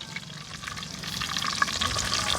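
Dried fish curry with vadi frying in a pan, a continuous close crackling sizzle with light stirring scrapes that grows slightly louder, no voices.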